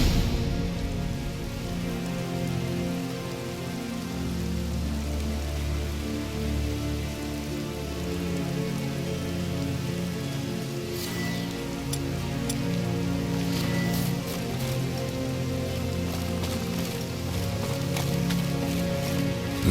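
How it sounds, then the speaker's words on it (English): Steady rain falling in The Witcher 3 video game, a continuous wash of rain on surfaces under a low game soundscape, with scattered sharper drips in the later part. "Looks like rain."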